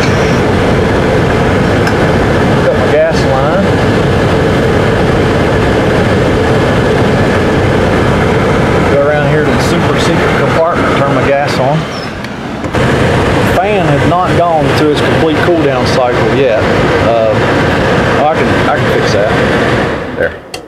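An RV propane furnace runs during a test fire, giving off a loud, steady droning roar with rattling and clanking that continues throughout, and a voice speaks over it partway through.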